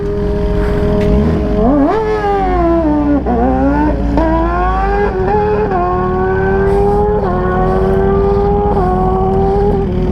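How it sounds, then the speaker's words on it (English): A GSXR 1000 or ZX10R sport motorcycle, low on fuel, runs loudly close by, its engine pitch rising and dipping unevenly in repeated surges as it struggles and sputters. "Camera Girl bike having a little difficulty. Sound like it might be about out of gas."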